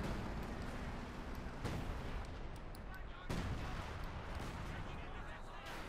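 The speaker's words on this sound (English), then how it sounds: "More artillery running down here." Artillery shells explode in a Company of Heroes 2 battle, two heavy booming blasts spaced a couple of seconds apart over a dense, continuous roar of combat noise.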